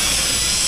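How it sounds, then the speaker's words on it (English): A power drill bores pilot holes in fiberglass roofing, a steady high whirring grind that is close, loud and alone for under a second. "we're going to pre-drill these holes bigger than they need to be"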